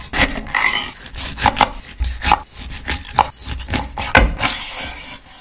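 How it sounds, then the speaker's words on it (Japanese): A kitchen knife chops a gutted, headless chub mackerel into round chunks on a board: a string of sharp, close cutting thunks and scraping strokes, irregularly spaced, about a dozen in quick succession. "筒切りする。"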